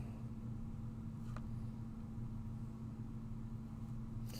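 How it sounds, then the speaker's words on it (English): A steady, low car engine rumble drones on without a break, fairly faint, rattling as if falling apart, with a soft click partway through and another near the end. "Someone's car sounds like it's falling apart up there."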